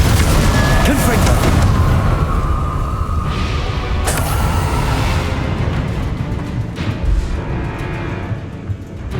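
A Confringo blasting spell explodes in Hogwarts Legacy, a loud booming blast with sharp cracks over a dense, roaring game soundscape, fading slightly toward the end.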